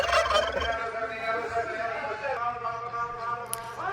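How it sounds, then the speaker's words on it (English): A turkey tom at a poultry auction gobbles repeatedly in rapid warbling bursts, fairly close, while a person talks over the calls. "He was just constantly gobbling."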